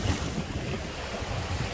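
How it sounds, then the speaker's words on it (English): Calm Irish Sea water lapping against seafront steps by Blackpool's North Pier, a steady close wash of gentle surf mixed with wind rumble on the microphone, no voices. "Irish sea just stroking these steps here"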